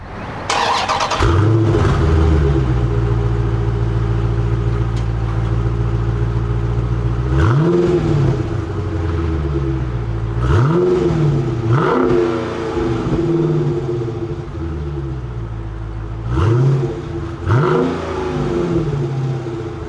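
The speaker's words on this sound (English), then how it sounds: "exposed exhaust outlets pumping out that absolutely fantastic sound" A 2021 Dodge Challenger R/T Scat Pack revs hard through its exhaust, loud and close, with several sharp throttle blips swelling and falling over a steady deep idle rumble.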